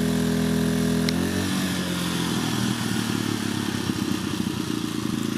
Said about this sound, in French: Vous voyez, le régime moteur s'adapte très rapidement.